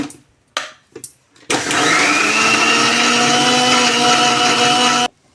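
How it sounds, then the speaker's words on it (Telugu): A mixer grinder blends soaked black-eyed peas with salt and a little water into batter. A few short bursts give way to one loud, steady whir lasting several seconds before it cuts off abruptly. "ఇప్పుడు మిక్సీ పట్టుకున్నాము"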